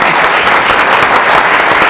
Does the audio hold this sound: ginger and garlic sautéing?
no